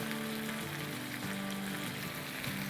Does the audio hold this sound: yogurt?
yes